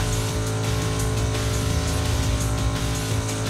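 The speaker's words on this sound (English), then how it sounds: "This game does not appreciate the use of the handbrake too much." Car engine in Need for Speed: Undercover on the Wii, revving loudly and steadily as the car slides under the handbrake, with faint tire squeal in a continuous roar and no voices.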